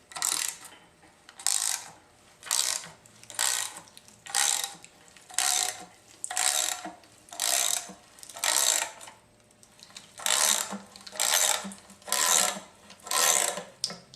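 A hand ratchet tightens a bolt to lever off the oil pan of a Nissan SR20DET engine during teardown, sounding as a steady run of about twelve rhythmic clicking strokes, close and clear with no talk.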